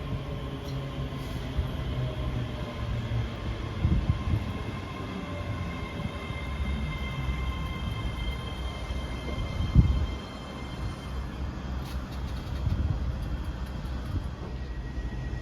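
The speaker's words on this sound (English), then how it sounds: "Arriving in now is the 1423 ScotRail service from Dundee to Glasgow Queen Street." A ScotRail train pulls into Stirling station, with a steady low rumble of wheels and engine throughout and occasional louder clanks and squeals as it slows at the platform.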